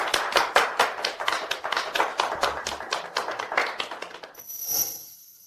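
A small group of office staff claps in distinct, rhythmic handclaps for several seconds, then the clapping fades into a quiet room with a brief high-pitched tone near the end.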